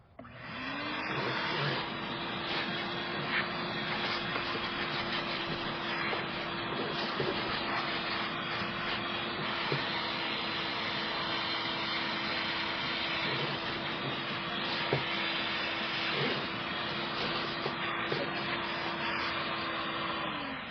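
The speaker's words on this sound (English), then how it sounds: "so now that we've got it kind of vacuumed up and everything" A vacuum cleaner runs over perforated leather car seats, a steady close whine with a constant pitch that holds throughout, with faint scraping and bumping from the nozzle.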